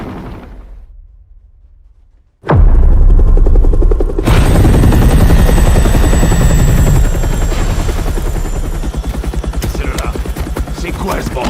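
A helicopter takes off in an action film. The clip opens quiet, then a loud, close rotor chop kicks in abruptly and continues in a steady, pulsing roar with a rising engine whine.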